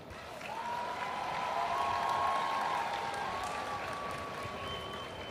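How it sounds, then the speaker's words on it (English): A high school graduation commencement crowd claps for the graduates, a soft, distant wash of applause that swells slightly in the middle, while a faint whistle-like tone drifts above it. "Round of applause for everybody graduating today."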